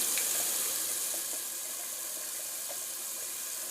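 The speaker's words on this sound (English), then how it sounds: "a little cold water rinse" Cold water rushes steadily from a sink tap for a post-shave rinse, a constant close hiss with small splashes and a slight fade toward the end.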